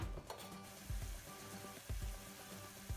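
Beef frying and browning in a pan makes a steady, close sizzle, with periodic scraping and stirring knocks about once a second and no talk.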